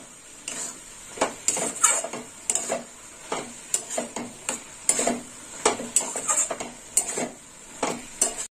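Poppy seed paste is stirred in a cooking pan, a spatula scraping and knocking against the metal in quick repeated strokes, close and fairly clear, with a faint sizzle underneath and no voices.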